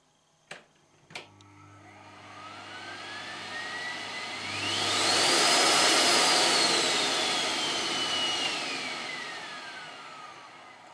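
A Siemens Dynapower 1800 vacuum cleaner, just repaired, gives two sharp clicks and then switches on, its motor whine climbing to a loud, steady roar before easing slightly toward the end.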